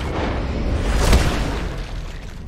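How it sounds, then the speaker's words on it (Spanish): Gunfire in the video game Red Dead Redemption 2, heard as a loud, booming burst peaking about midway through, with dense rumbling noise continuing before and after and no one talking over it. "Le pego 4 tiros"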